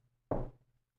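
A single dull knock sounds during a ghost hunt: one short, fairly loud thump with a brief ringing tail that quickly fades to quiet, under a faint low hum.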